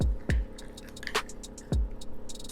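Mayonnaise being dropped into a bowl for Big Mac sauce, a few wet, heavy plops and soft squishes, close and alone.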